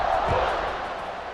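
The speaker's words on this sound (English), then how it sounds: "this crowd is buzzing after that last score." A football stadium crowd at a BGSU versus Toledo Rockets game buzzes after a score, a steady roar of many voices with a commentator speaking over it.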